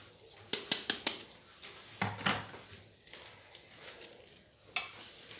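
Chicken and onion frying in olive oil in a pot: quiet sizzling with a series of sharp clinks and scrapes of utensil against metal, a few close knocks early on, then softer stirring.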